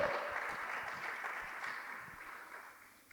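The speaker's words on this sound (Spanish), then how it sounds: "Dele fuerte las palmas al Todopoderoso" Church congregation clapping hands together during a Spanish-language service, a dense continuous wash of applause heard from a distance, steady then slowly fading.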